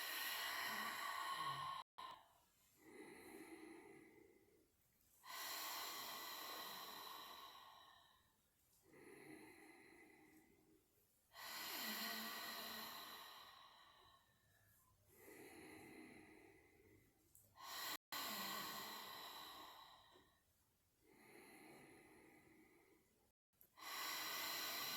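Slow, deep breathing cycles during an exercise routine, each long inhale and exhale rising and fading in a steady rhythm, close to the microphone with no talking, about five full breaths.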